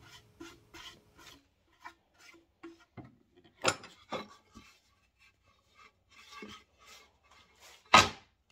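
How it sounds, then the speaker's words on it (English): Someone sands a walnut board smooth by hand, making short, close, scratchy strokes that come in an irregular rhythm, with a few louder swipes mixed in and quiet gaps between them. "then just go and sand it smooth like this"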